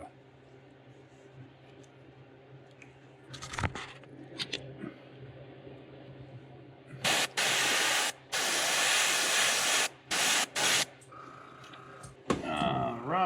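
A fishing lure is spray painted, with several sharp bursts of hissing spray, some brief and some lasting a second or more, among quiet handling sounds at a workbench.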